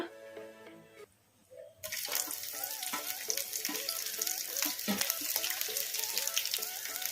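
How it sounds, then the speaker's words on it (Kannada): Garlic and chana dal fry in hot oil for carrot chutney, a quiet pan bursting into a loud, steady sizzle as the garlic goes in, with stirring scrapes under the crackle. "ಈಗ ಕಡಲೆಬೇಳೆ ಬೇಳೆ ಕೂಡ ಫ್ರೈ ಆಗಿದ್ದಾವೆ ಈಗ ಇದಕ್ಕೆ ಒಂದು ಸ್ವಲ್ಪ ಬೆಳ್ಳುಳ್ಳಿ ಹಾಕೋಣ"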